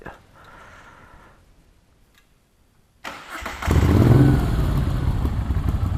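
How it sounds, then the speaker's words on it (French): A Moto Guzzi motorcycle engine starting up with a cranking clatter, then settling into a loud, deep, throaty idle with a steady rumbling pulse, close by. "Ça fait vraiment le bruit d'une moto"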